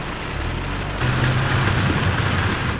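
Artificial rain sprayed from a water truck onto a film set drums down in a steady, broad wash that grows louder and heavier about a second in, with no one speaking.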